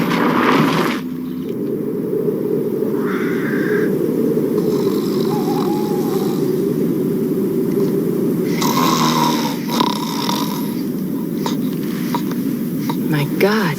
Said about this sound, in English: Your snoring could wake the dead.